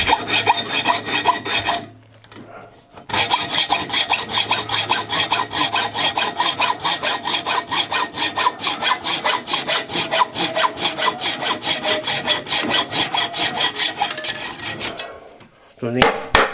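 A hacksaw cuts through a metal tube in fast, steady back-and-forth strokes, a bright rasping rhythm heard up close and loud, pausing briefly near the start and stopping at the end.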